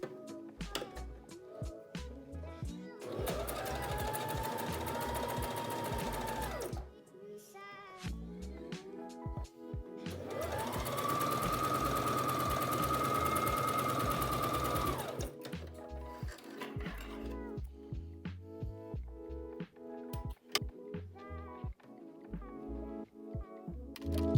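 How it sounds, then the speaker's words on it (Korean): Sewing machine stitching a shirring test on a cut strip of fabric, upper thread tension near 6 to 7 and stitch length 4, with two sustained bursts of fast, loud whirring separated by pauses, clicks and handling noises. "윗실 장력을 6에서 7 사이로 맞추고 땀수를 4로 설정했습니다."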